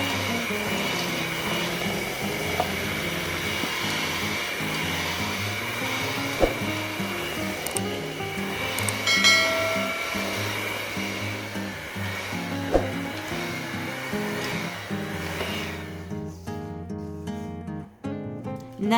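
An electric mixer drones steadily while combining dry and wet ingredients for soft ricotta cannoli cookie dough, with a constant motor whine and a few light clicks before it cuts off near the end.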